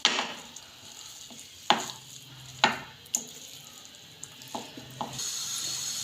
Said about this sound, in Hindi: ऐसे अब जल्दी जल्दी चम्मच चलाते जाना है।